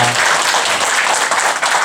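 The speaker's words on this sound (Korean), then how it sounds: "다시 한번 박수 보내겠습니다" Dense, steady audience applause fills a church thanksgiving service celebrating an elder's autobiography publication, loud and close for a brief burst.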